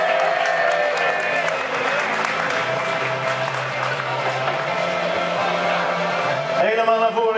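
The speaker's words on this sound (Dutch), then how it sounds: "het gigantisch applaus, helemaal van jullie voor deze kanjers" Crowd applause for groups of schoolchildren after a 1 km family fun run, steady broadband clapping with crowd noise and music-like tones throughout, loud and sustained for several seconds.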